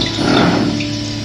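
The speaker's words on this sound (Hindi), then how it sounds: "अब ये जाएगा इसमें फ्राई होने के लिए" Double-coated chicken fries in hot oil for a homemade KFC-style dish, giving a loud, steady, dense sizzle.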